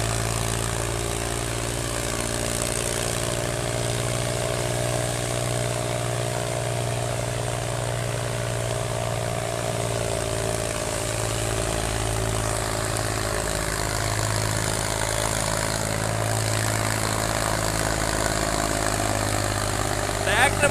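Farmtrac 60 tractor engine running steadily during a field demo with a double harrow, a continuous loud low drone with an even, unchanging hum throughout.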